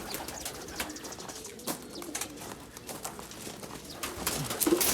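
Bursa oynar tumbler pigeons stir inside a cage, giving scattered wing flaps, rustles and soft coos in short irregular bursts, close by, with a slightly busier patch toward the end.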